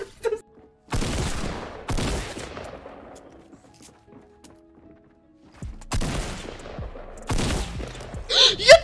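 Bursts of rapid gunfire from Fortnite, several volleys separated by quieter gaps, with a faint voice near the end.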